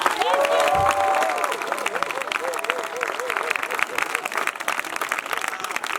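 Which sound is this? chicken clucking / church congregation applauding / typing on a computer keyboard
church congregation applauding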